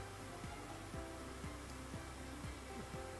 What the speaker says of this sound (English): we're going to be running at 500 RPM at the dry cycle